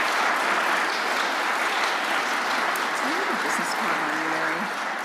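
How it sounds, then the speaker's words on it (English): Sustained audience applause at a sports law symposium, a dense steady wash of clapping from a large crowd that holds loud for the whole stretch, with faint voices underneath near the end. "Let's give our panelists a round of applause."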